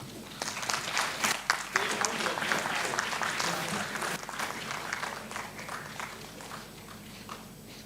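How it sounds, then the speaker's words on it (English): Audience at an academic conference applauds a plenary speaker, Professor Dr. S.K. Saha, during a memento presentation; steady dense clapping fills the room for the full stretch, fading slightly near the end. "Can we have a huge round of applause?"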